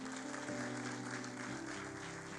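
A church congregation claps and cheers in praise, a dense, continuous wash of applause heard from some distance over sustained musical tones.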